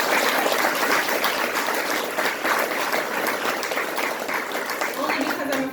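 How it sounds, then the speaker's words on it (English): A crowd claps steadily for a school custodial team at an elementary school ribbon-cutting ceremony, broad dense applause filling the whole stretch at an even, fairly loud level. "if we could give a round of applause to Buck Flag and the custodial team"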